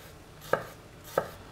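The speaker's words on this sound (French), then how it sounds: "On va couper l'oignon pareil, comme ceci." Two sharp knife chops through an onion on a cutting board, spaced about half a second apart, close and distinct against a quiet kitchen background.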